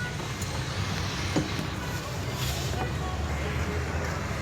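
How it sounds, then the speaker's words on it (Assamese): Steady interior rumble of a bus travelling along Hauli–Barpeta road, a continuous low engine and road drone with faint rattles throughout. "বাছত গৈ আছোঁ হাউলি বৰপেটা ৰোডত"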